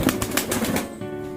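A pigeon's wings flap in a quick burst of soft, rapid beats as it is released, close by, then fade away.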